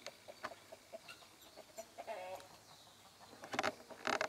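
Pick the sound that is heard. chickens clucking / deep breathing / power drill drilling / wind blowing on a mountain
chickens clucking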